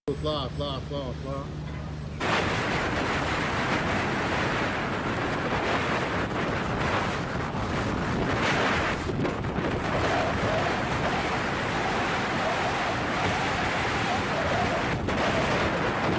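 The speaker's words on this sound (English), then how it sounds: "A large fishing vessel flying the flag of the Netherlands confidently passes the waves in a storm." A large Dutch-flagged fishing vessel ploughs through heavy seas in a storm, with loud, steady roaring wind and crashing waves filling the whole stretch after a brief quieter opening.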